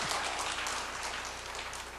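Church congregation applauding together at a prayer meeting for mothers, a dense, steady wash of clapping hands held at an even level throughout, with no voices over it.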